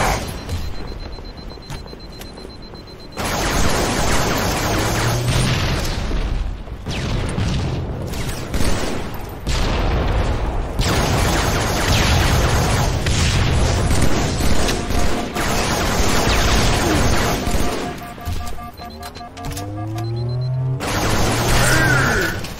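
Rocket explosions and heavy gunfire in a Halo 3 online Team BS match, with loud repeated booming bursts and crashing blasts packed densely over most of the stretch, broken by a brief quieter gap near the start.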